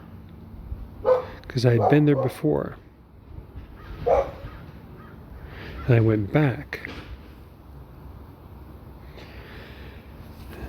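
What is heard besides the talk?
dog barking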